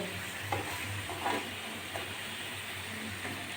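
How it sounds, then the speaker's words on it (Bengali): Potatoes fry in oil with a faint, steady sizzle and occasional soft stirring scrapes. The sound cuts off abruptly with no talking. "আলুগুলো এই যে পুরো লাল হয়ে যাচ্ছে আর একটু ভেজে নেব"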